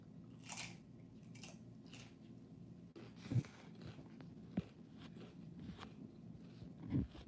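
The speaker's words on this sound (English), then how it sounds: "I thought I was gonna get away with just crunching on these chips right quick" Potato chips being crunched and chewed close to the microphone, a few separate sharp crunchy bites over a quiet hum, with soft rustling between them.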